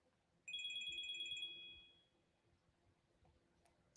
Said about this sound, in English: Why is my phone ringing again?